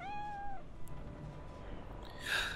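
A cat meows in Cyberpunk 2077, one clear drawn-out meow at the start followed by a second higher, brighter meow near the end, fairly quiet over faint background ambience.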